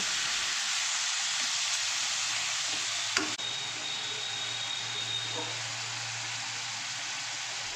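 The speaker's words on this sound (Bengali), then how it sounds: "মিডিয়াম ফ্লেমে রেখে এটাকে সুন্দর করে একদম ফ্রাই করে নেব" Chicken fries in a pan on a medium flame, giving a steady, even sizzle throughout with a single brief clank of a utensil near the middle.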